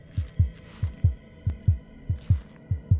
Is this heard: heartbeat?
yes